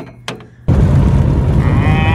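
Cattle mooing on a farm near a power company work site, one short low call followed by a louder, sustained moo that holds steady for over a second, close and clear.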